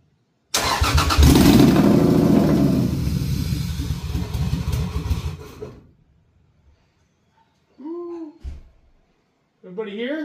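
Toyota Supra 2JZ engine cranking and firing up, roaring loudly for several seconds and then dying away, with short bursts of talk after it stops.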